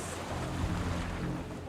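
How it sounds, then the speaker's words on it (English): Ocean waves swelling around a submerged cage during a survival challenge, a loud continuous rushing wash of water and wind noise close to the microphone, with no speech. "The waves are starting to swell now."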